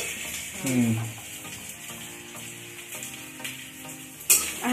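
Ginger and peas roast in a home pan with a steady close sizzle and occasional stirring scrapes, a voice speaking over the cooking.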